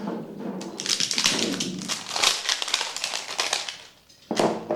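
Crinkly tearing and tapping as a Kamasutra Spark deodorant spray buy-one-get-one pack is opened by hand, a steady run of rustling packaging close by with a short pause near the end before the handling resumes.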